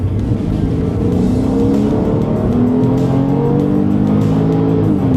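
A Porsche 911 of the 997 generation accelerates in sport mode, its engine a loud, continuous drone that climbs steadily in pitch across the whole stretch, with no talking over it.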